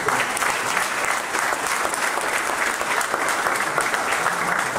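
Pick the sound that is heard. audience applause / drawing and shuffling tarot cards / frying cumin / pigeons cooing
audience applause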